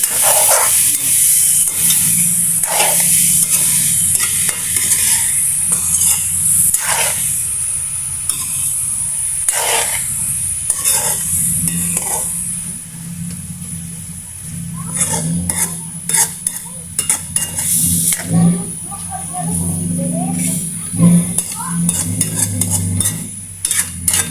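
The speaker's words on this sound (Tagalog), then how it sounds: "Haluin natin paminsan-minsan." Chicken pieces for tinola sizzle in a hot pan, with a constant frying hiss and repeated scraping and clinking of a utensil being stirred against the metal, loud and close, the stirring bursts growing busier toward the end.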